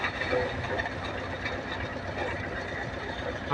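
A sugarcane harvester cuts cane and drops it into a tractor trailer alongside, a steady dense mechanical roar with rumbling engine noise throughout.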